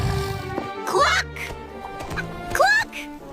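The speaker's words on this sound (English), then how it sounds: "but the hen cackled." A hen cackles in a Jack and the Beanstalk fairy tale with two sharp, rising squawking bursts over a narrator's voice and a steady background tone.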